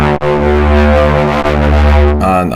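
Ableton Analog synth patch with stacked, slightly detuned unison voices, a thick sustained buzzy chord that swells loud and full, shifting to a brighter altered tone near the end, with no talk.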